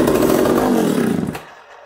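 A John Deere 60cc chainsaw, left sitting for 20 years, bursts into a loud close-up engine roar for over a second, then cuts out abruptly, leaving near silence.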